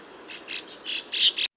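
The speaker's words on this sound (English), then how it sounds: "White-faced starling." A white-faced starling, a bird native to Sri Lanka, gives a run of five short, bright chirping calls, close and clear, getting louder toward the end before cutting off.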